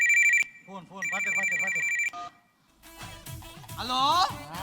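A telephone ringtone sounds in short repeated bursts, followed by people talking and laughing loudly as the ringing stops.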